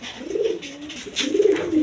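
Gola pigeons in a seller's loft coo in two soft, low rolling phrases, close by and alone.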